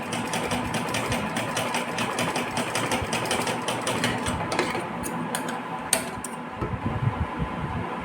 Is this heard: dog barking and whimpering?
no